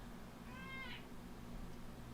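A house cat gives a single short, faint meow partway through, over a steady low indoor hum, with no talk.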